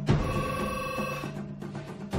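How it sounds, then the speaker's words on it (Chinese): A telephone rings in an office, a steady electronic trill holding for about two seconds, fairly close, with no talk over it. "接到美国客户来电"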